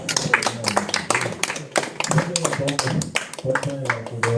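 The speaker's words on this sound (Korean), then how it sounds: "박수 안 치세요?" An audience at a lecture welcomes the speaker with dense, overlapping hand claps that run steadily throughout, mixed with some voices and room noise.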